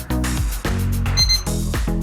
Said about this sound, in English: 2 beep means successful.